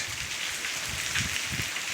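Rain falls steadily in Porbandar, a continuous, even hiss of drops with soft low thuds underneath and no voices.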